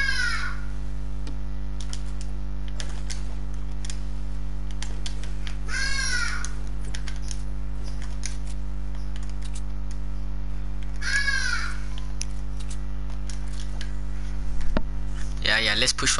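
A hadeda ibis, a South African bird, gives several loud raucous calls at intervals, each a harsh descending cry, over steady electrical hum and keyboard clicks.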